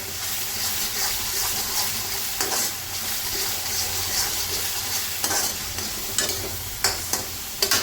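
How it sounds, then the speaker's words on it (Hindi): Masala frying and being stirred in a pan for lauki kofta curry, a steady close sizzle with scraping spoon strokes and a few sharper clicks throughout. "देखिए गाइस मसाला मेरा पूरा भुन गया है।"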